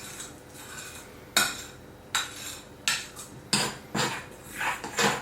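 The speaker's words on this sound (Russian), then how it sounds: "Тщательно все перемешали." Cake batter with beaten egg whites being stirred in a bowl, giving several distinct scraping, clinking strokes spaced about a second apart, close and moderately loud with no talking.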